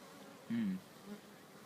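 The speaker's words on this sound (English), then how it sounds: "Look at the wasp trying to get in, look." A wasp buzzes briefly near the entrance of a honeybee hive on a Sunday morning, a single short low drone rising close to the microphone over a quiet hum of bees.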